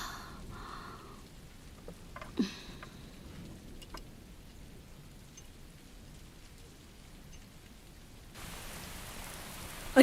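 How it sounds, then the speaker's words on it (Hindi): Rain begins to fall outdoors, a faint, steady hiss with a few scattered drops and knocks, then a louder burst of rain noise swells in during the last seconds. "बारिश शुरू हो गई है"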